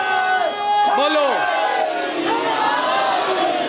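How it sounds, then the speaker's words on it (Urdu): A large majlis crowd raises a loud religious chant together, with voices swelling in a held, rising call that fills the space before tailing off into a second, softer swell. "نعرے دی آواز کمزور ہے"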